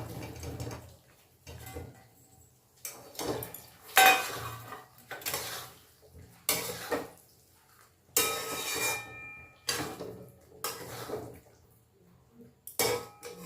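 Paneer pieces tipped into a pan of masala over low heat, heard as a series of clinking metal spoon-and-pan knocks and soft scraping bursts, moderately close, with no talking.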